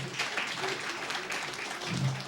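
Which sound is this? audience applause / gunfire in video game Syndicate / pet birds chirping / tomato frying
audience applause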